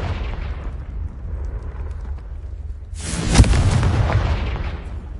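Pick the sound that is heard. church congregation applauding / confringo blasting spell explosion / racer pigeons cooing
confringo blasting spell explosion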